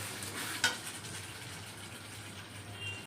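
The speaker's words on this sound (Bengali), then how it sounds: "এখানে খিচুড়ির জন্য মশলা কষানো" Spices frying for khichuri in a pot, cooked as a devotional offering, give a steady soft sizzle, with one sharp stirring scrape near the start.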